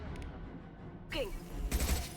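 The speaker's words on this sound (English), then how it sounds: "Taking heavy fire!" Heavy gunfire during a Mass Effect firefight, with bursts of shots breaking out after a quiet stretch and growing denser toward the end, mixed with game sound effects.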